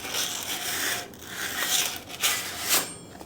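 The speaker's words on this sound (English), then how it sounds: "just take the sandpaper and just give it a nice little scuff against the grain, scuff it up" Sandpaper scuffs across a SRAM Code/DB8 bike disc brake pad or rotor in a few short, dry rasping strokes, quiet and close, with no voices.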